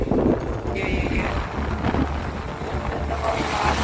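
Sea waves break and wash onto a clean sandy beach, a continuous loud roar of surf mixed with heavy wind buffeting the microphone throughout.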